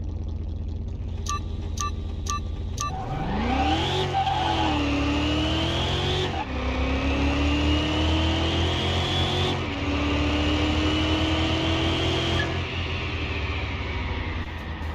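A supercharged LS race car engine from Car Mechanic Simulator 2021 revs up hard and pulls through several loud, close upshifts, each gear sweeping upward before dropping, alone with no talk.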